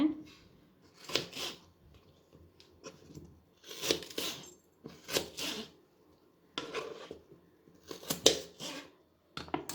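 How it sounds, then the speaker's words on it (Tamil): A knife chops through raw potatoes on a board, cutting them into long sticks, in irregular bursts of quick cuts, each run of strokes separated by brief pauses. "நான் இன்னொரு உருளைக்கிழங்கையை கட் பண்ணுறேன்."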